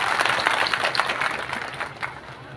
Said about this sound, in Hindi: ये लड़के के लिए तालियां बजाओ